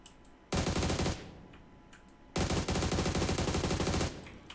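Two loud, sustained bursts of rapid automatic gunfire in the PUBG Mobile battle royale game, each lasting over half a second to about a second and a half, separated by a quieter gap with faint background game sounds.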